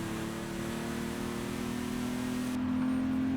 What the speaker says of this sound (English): So BMW M1 is an absolutely iconic car with its V12. It sounds fantastic.